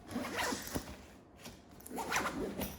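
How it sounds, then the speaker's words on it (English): A zipper on a travel bag being pulled open at close range in Santorini, Greece, heard as a few quick, quiet rasping strokes separated by short pauses, with no talk. "it looks like they were trying to open this zipper"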